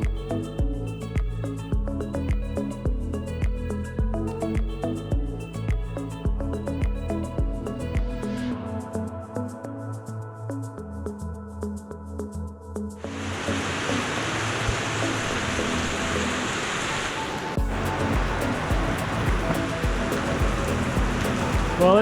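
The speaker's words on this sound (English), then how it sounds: "With the rain still pouring" Heavy rain pours down in a dense, steady roar that rises abruptly after a stretch of tonal music and then continues loud and unbroken to the end.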